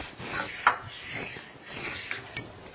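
A planer knife bevel honed against a sharpening stone on a Shopsmith, giving a few close back-and-forth rasping strokes with light metallic clicks, and no talk.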